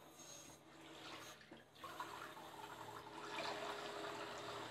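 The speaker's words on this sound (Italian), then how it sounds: "andremo a riempire la bacinella con l'acqua." Tap water runs into a basin in a kitchen while pasta is being prepared, a faint, steady splashing and hiss that swells slightly toward the end.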